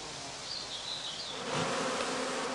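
Honeybees forage among cornflowers and chamomile, a faint, even buzz of many insects with a slight rise in loudness partway through.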